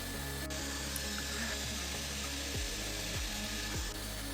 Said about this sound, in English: We will be speed welding this polypropylene today, and it's usually done at around 320 degrees Celsius.